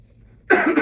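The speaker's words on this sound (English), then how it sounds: "I'm sorry about the coughing." After a near-silent moment, one person at a county commissioners meeting gives a sudden, harsh cough close to the microphone, abrupt and loud.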